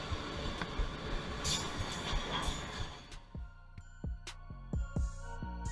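A train rumbles past loudly in a tunnel with dense roaring noise, then fades, leaving a series of sharp clanks and knocks spaced out as the last cars pass.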